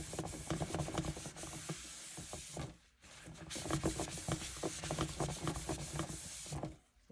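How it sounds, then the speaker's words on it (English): Cloth or pad rubbing wax across the painted top of a thrifted piece of furniture, a steady close scrubbing and swishing with rhythmic strokes that pause briefly midway before resuming. "Some wax and seal that in. I'm just going to put it all over the whole top."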